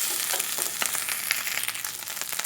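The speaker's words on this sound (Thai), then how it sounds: "ผัดให้เขาเข้ากันอีกรอบครับ" Rice stir-fries in a hot pan with fish sauce and sugar for a Thai fried rice, giving a close, constant sizzle broken by light scraping and stirring strokes, with no speech.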